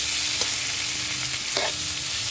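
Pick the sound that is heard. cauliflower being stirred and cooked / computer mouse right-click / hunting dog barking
cauliflower being stirred and cooked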